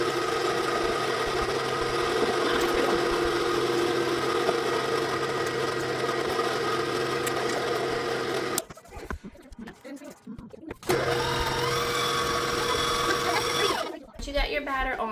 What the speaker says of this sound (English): you're just going to turn off your mixer